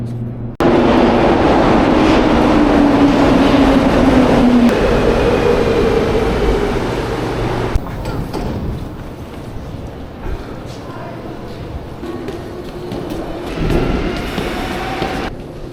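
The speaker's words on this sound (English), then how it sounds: "we're going to be taking a metro downtown" Metro train ride heading downtown in Montreal: a loud rumbling carriage with rising and falling motor whine, rattling wheels and track noise, settling into a quieter rolling drone toward the end.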